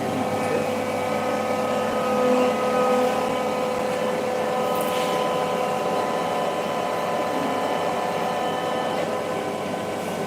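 A Vision Ultra 990 putty sprayer machine runs with a steady, loud motor hum and constant tonal whine that holds unchanged throughout, with no voices.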